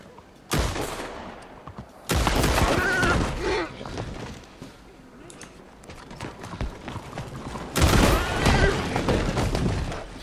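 A horse in the video game Red Dead Online lets out loud whinnies amid sharp bursts of gunfire and hoof clatter, with loud impacts near the start and again toward the end.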